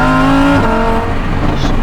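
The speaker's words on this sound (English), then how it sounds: "This is the only car I've ever had where I've said the exhaust note does not need to be changed, altered, or nothing." A Lamborghini Huracan Performante roars up close, its loud exhaust holding a steady high rev before the pitch drops into a deeper, rougher burble as it shifts or lifts off the throttle.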